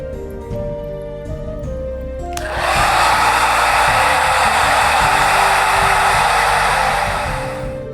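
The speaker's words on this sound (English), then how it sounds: "All right, hair dryer time." A hair dryer switches on partway through and blows loudly and steadily over freshly painted dungeon terrain pieces, after a quieter stretch of background music.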